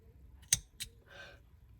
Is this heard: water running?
no